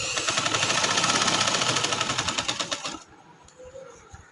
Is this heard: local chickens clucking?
no